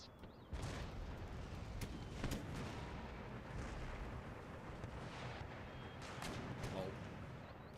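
Artillery cannon fire from the Iroquois side in Empire Total War, a steady stream of booming shots and rumbling impacts filling the battlefield continuously, with several sharper cracks standing out near and far.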